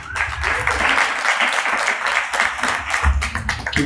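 An audience applauds after a comedy set, sustained dense clapping with some cheering and voices, loud and close throughout.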